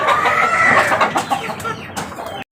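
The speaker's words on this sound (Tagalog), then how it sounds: "uhaw na yung aking sisiw" A flock of thirsty chicks being raised by hand chirps and peeps busily at close range. The calls are rapid and overlapping and stay loud and continuous throughout, with no voices.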